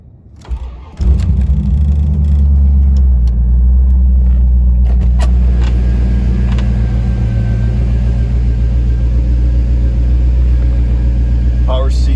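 A cold 1994 Chevrolet Corvette Coupe engine cranks and fires after a second of quiet, then settles into a loud, steady, deep idle rumble close by, with no talking over it.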